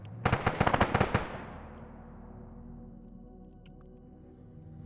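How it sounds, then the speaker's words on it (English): Heavy machine gun firing in a military video game: a rapid burst of about a dozen loud, sharp shots in the first second, followed by a long fading echo and quiet background. "Now you're having this HMG open fire."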